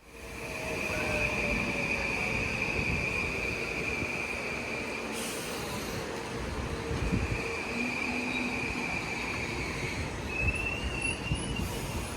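A train at a station platform on a route to New York rumbles steadily and near, with long metallic wheel squeals and hissing brakes rising and fading over twelve seconds, no voices.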